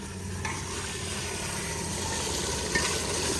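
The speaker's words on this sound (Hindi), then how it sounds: "अभी इसकी ग्रेवी अच्छे तरीके से भुनी जाएगी ना?" Chicken and gravy sizzling in a pan while being stirred, a dense steady frying hiss with scraping stir noises, loud and close, with no talking over it.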